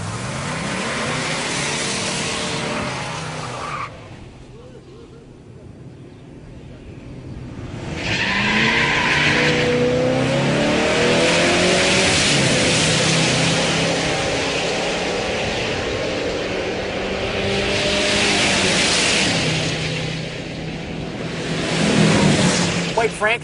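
A Chevrolet LS6 muscle car with an automatic transmission and a tall rear gear accelerates hard, its engine roaring and rising in pitch through long pulls with tire noise, while someone talks over it.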